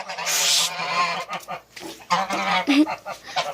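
Geese honking and calling in short bursts close by, with a breathy hiss in the background.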